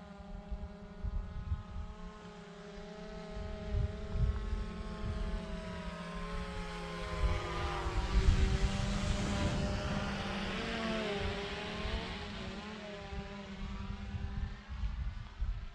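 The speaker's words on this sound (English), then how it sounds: "I'm just watching the drone in the air" A DJI Mavic Pro Platinum drone flies outdoors near a mountain, its steady high propeller whine holding for the whole stretch, with the pitch shifting as it moves and growing louder around the middle.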